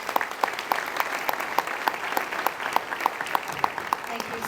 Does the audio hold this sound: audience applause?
yes